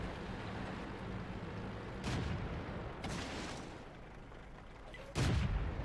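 Tank cannon shots in the World of Tanks battle game, a few sharp booming blasts spaced out over a low rumbling background, the last one loudest.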